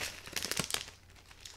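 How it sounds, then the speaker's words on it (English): A snack package is torn open, and its plastic wrapper gives a short burst of close, soft crinkling that fades quickly. "I'm gonna go ahead and open this up and give it a little taste test here."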